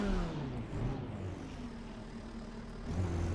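A racing car engine in the Assetto Corsa Competizione video game idles roughly and lumpily, with a steady low throb that dips slightly midway and then swells again near the end.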